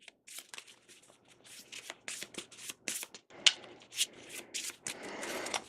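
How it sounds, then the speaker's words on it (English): Cards from the Cosmic Balance board game being shuffled into one deck, a run of quick riffling and rubbing bursts with brief pauses, close and soft with no talk. "you will shuffle those all together, and you will make 1 deck that you will draw from."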